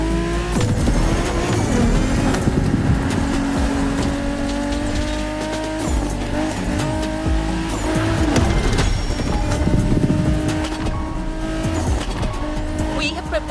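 BMW Z4 M40i convertible in the racing game The Crew Motorfest, engine droning steadily with shifting revs and repeated tire squeals, loud and close throughout, with a voice talking over it.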